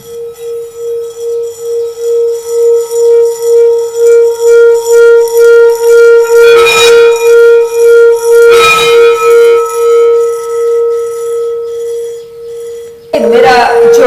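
A Buddhist singing bowl rings with a steady, sustained metallic hum and shimmering overtones, swelling and pulsing in a slow wobble, with a few brief rustling knocks partway through and a bright burst near the end.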